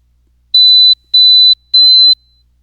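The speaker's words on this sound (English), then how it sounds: "Again, 3 tones will be played." Three clean, high-pitched beeping test tones near 4000 Hz for a pitch discrimination test play one after another with short silent gaps, each about half a second long.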